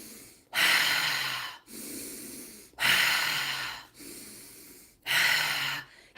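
Deep, forceful breaths in and out repeat in a steady rhythm, each loud rushing inhale followed by a softer exhale, close to the microphone with no talking.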